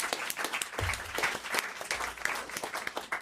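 A studio audience applauds on a French radio-television entertainment show, dense clapping that swells and carries on steadily, with a few sharper individual claps standing out near the microphone.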